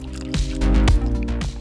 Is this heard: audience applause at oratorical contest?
no